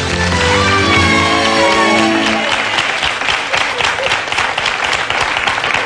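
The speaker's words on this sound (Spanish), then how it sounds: "vamos a dar un aplauso cuando yo diga correcto" A studio audience on a quiz show bursts into sustained applause on cue, loud and dense, while fading musical tones at the start give way to rapid crowd clapping.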